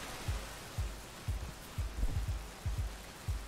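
Heavy rain in the video game Rain World, heard as a series of deep, thudding low pulses repeating about twice a second, like a pounding downpour muffled underwater, over a faint hiss.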